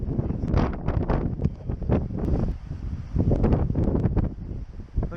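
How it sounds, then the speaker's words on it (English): Strong gusting wind on a shoreline near Port Aransas buffets the microphone in loud, rumbling surges that rise and fall without a break. "The wind was really starting to pick up even more."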